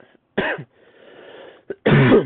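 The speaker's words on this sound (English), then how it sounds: "now that's like a mad cough" Two loud, harsh coughs separated by a stretch of quiet breathing noise, close to the microphone with nobody speaking.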